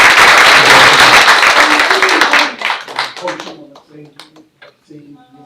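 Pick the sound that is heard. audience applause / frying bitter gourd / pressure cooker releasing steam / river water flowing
audience applause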